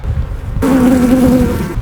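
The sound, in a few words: activity sound inside a beehive of bees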